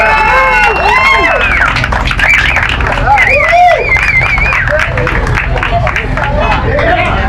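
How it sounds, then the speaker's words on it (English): An audience at a Rust is Gold Coffee event gives a guest a round of applause, with dense clapping, whoops and whistles, and a crowd murmuring throughout at close range. "Let's give him a round of applause."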